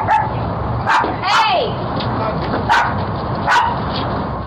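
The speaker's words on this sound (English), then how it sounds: "The guard dog sets off a 12-bark alarm." A guard dog barks in a series of sharp, loud barks close by, with a person shouting briefly among them.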